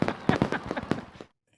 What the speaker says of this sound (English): Oh, wow. Look at that. We've got fireworks.